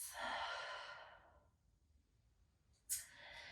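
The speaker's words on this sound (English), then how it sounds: "inhaling through the nose and exhaling through the mouth" A long, audible exhale through the mouth during yoga breathing, fading out slowly, followed by quiet and the start of another breath near the end.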